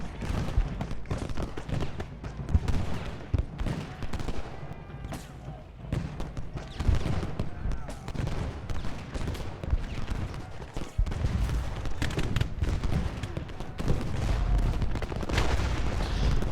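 Canister artillery fire rings out in a Civil War battle video game, a dense, continuous roar of overlapping cannon and musket blasts with rolling crackle and no break.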